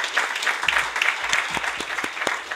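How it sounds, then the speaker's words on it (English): An audience at an EU policy conference on algorithmic management claps to thank the panel speakers: a continuous, fairly close round of applause with a few sharper individual claps standing out. "please help me with a round of applause to thank all of our speakers"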